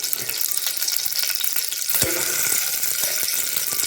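A steady sizzle of food frying in hot ghee in a cooker continues throughout, with a few clinks and stirring sounds partway through.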